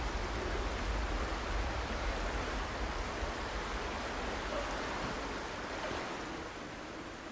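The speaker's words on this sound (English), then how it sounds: "probably by this waterfall by the flower door" Waterfall in the video game Aporia: Beyond The Valley, a broad, steady rushing roar of falling water that stays loud and even throughout, with no voices.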